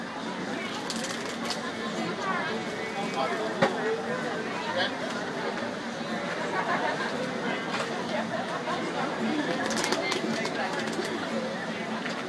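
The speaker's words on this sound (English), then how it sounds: "So I'm going to shuffle a few times, and then I'm going to have you cut the deck." A deck of tarot cards is shuffled during a reading, with soft, repeated riffling and flicking sounds close by. People talk quietly over and between the shuffles.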